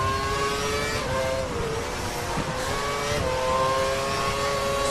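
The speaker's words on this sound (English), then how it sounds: "Just hearing the echo of a bloody car behind you all the damn time." A Formula 1 racing car engine from a video game of the Australian Grand Prix roars steadily and loudly with a high, shifting whine, while another car can be heard close behind throughout.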